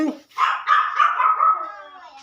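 Shih Tzu–Pomeranian mix puppies at play let out a single drawn-out, high whining yap that fades away. The sound is close and fairly loud.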